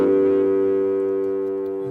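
A steady synthesizer tone from a Korg Volca with a short attack, loud and sustained, slowly fading over two seconds as its long release trails off.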